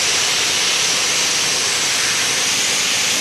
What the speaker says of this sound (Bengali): এটা কত নম্বর সিটি গো? 4 নম্বর সিটি হচ্ছে